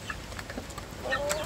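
Free-range village chickens cluck softly and intermittently outdoors. A few short, fairly faint calls sound over light background noise.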